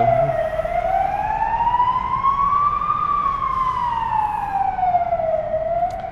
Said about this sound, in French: là il y a une ambulance qui est en train de passer